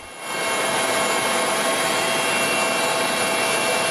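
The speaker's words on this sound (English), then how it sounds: "Helicopters dropping first responders onto the sinking boat." Rescue helicopters hover over a sinking ferry off South Korea, producing a loud, continuous rotor and turbine roar that swells in during the first half second and then holds steady.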